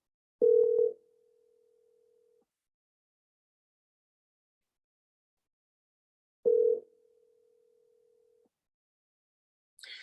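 A phone line's steady dial tone sounds twice as a call to sales leads is placed, each time starting with a short click burst and then holding a flat tone for about two seconds, with silence between the two and a brief noise at the end.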